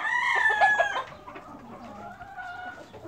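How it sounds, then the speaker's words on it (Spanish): Chickens cluck and squawk up close in a short burst, followed by quieter chirping and clucking from several chicks. "16 pollitos para mi compa"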